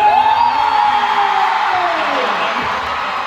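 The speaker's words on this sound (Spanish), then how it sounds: "le quiero dar la entrada con un fuerte aplauso y grito" A large crowd at a live show in Luna Park roars and cheers for a performer's entrance, a loud, dense, sustained din with a rising whoop near the start.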